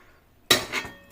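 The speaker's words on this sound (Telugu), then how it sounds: "ఇప్పుడు మూత తీసి చూద్దాము" A metal lid comes off an idli steamer pot with a single sharp clink and scrape, followed by a short hiss of escaping steam, close up after near silence.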